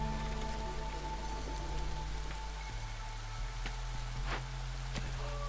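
Rainy-season rainfall in the video game Against the Storm, a soft, continuous patter of drops on surfaces over a low steady hum, with a few faint tonal game sounds rising briefly near the end.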